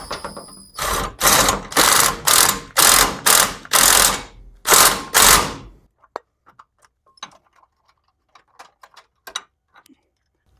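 A ratchet wrench cranks hard in about eight loud, close bursts, bolting a transmission crossmember for a 6L90E back down, then stops, leaving scattered faint clicks and taps.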